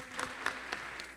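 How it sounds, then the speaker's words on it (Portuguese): Scattered, faint applause from a seated audience at a soybean farming forum in northern Rio Grande do Sul, a few distinct claps standing out over a brief, thin patter. "Mais uma vez, uma salva de palmas,"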